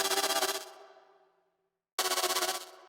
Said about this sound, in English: This is what gives the really fast tremolo effect.